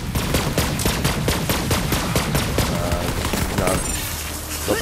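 Rapid automatic gunfire from jabbers in Borderlands 3 rattles in a steady stream of loud, close bursts for several seconds, thinning out near the end.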